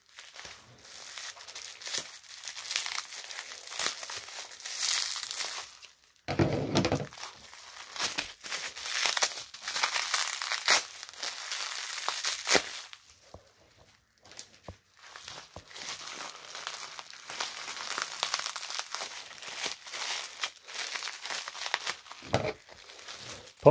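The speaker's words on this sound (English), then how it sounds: "Let's try to cut this open. he is all taped up in bubble wrap." A tape-and-bubble-wrap package is cut open close by, with soft crinkling, rustling plastic and tearing tape running continuously at low level, plus a few sharper snaps and handling bumps.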